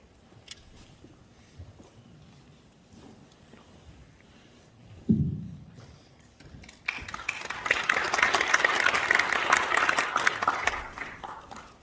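An audience at a Korean school-foundation mission network ceremony bursts into applause to welcome a guest, a sustained broad clapping that follows a sharp thump and some quiet room noise.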